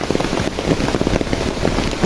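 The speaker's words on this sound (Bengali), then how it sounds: "বৃষ্টি খুব জোরে জোরে পড়ছে" Heavy rain pours steadily, a dense, constant hiss of drops with no pauses.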